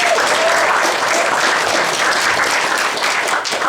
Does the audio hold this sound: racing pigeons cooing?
no